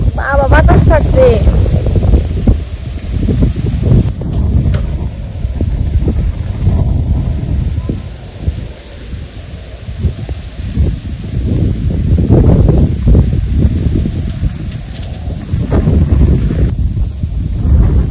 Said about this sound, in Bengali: বাতাস থাকছে।